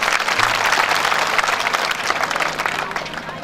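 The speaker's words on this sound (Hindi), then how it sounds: "एक बार इनका स्वागत कर दो ताली बजाकर" Crowd at a Shrimad Bhagavat Katha religious gathering claps steadily in welcome, a dense, continuous wash of many hands with faint voices mixed in.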